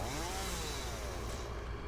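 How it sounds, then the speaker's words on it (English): A chainsaw from the factory-building game Satisfactory revs in a continuous buzzing drone with a slight rising-and-falling pitch, heard alone at moderate, fairly distant volume. "Chainsaw."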